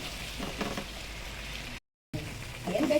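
Pork longganisa frying with garlic in a pan, a steady hissing sizzle while being stirred, broken by a brief gap of silence and returning with the same crackle.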